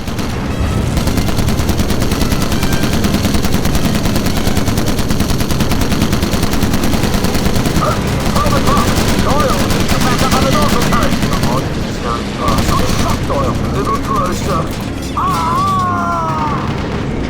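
Bomber machine guns blaze in the Call of Duty World War II mission over Holland: loud, dense, near-continuous gunfire with booms and crashes throughout, and brief radio-like chatter and engine drone layered underneath.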